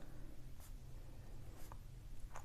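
Pen or pencil writing on paper during a class 8 geometry construction, with faint, sparse scratchy strokes close by over a quiet room hum.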